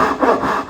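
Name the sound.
hand saw cutting a wooden dovetail joint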